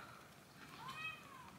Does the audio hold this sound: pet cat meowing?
yes